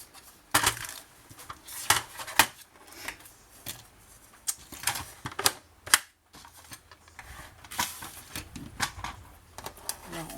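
Paper strips creased and folded by hand for a scrapbooking pop-up album, a series of crisp taps, snaps and rustles in irregular bursts, close and fairly loud.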